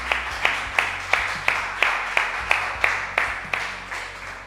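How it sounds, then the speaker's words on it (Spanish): A church congregation claps in a steady, rhythmic beat, about a dozen even claps at a moderate tempo, fairly close and fading slightly toward the end. "Denle un aplauso a nuestro Dios."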